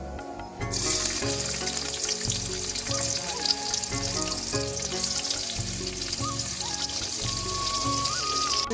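Chopped onion frying in a pan, starting with a sharp burst of sizzle as it hits the oil, then a dense, steady crackle over a low rhythmic background hum, with no talking.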